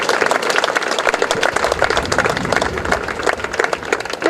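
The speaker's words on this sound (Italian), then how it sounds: "facciamogli un grande applauso" Audience applause in a town piazza at the Premio Gattopardo d'Oro award ceremony in Palma di Montechiaro, a dense, continuous wash of clapping from a crowd, steady throughout.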